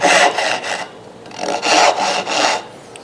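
Stop cuts being made in a wooden board during arch carving: several close, scraping strokes in short bursts with brief pauses between them, and no talking.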